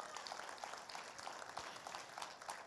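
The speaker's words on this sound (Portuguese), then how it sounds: "Dê uma salva de palmas bem forte para Jesus." A church congregation claps with strong, steady applause that sounds faint and distant, a continuous patter of many hands with no clear voices.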